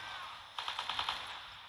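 Short burst of AK-like machine gun fire in the video game Art of War 3, about six rapid rounds in quick succession, fairly faint and alone.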